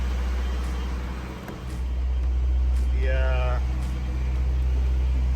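A Nissan Sentra SE-R with an SR20DE engine idles steadily after an alternator replacement, a constant low hum with no belt squeal, while someone talks over it close by.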